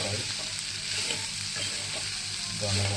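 Chopped ivy gourd (dondakaya) with coconut for an Andhra-style curry fries in a pan, giving a close, steady, dense sizzle with no talking.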